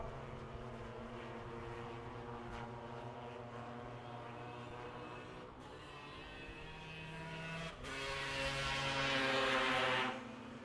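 Husqvarna motorcycle racing on ice, its engine a steady droning whine held throughout, swelling louder and brighter near the end as the bike passes close by.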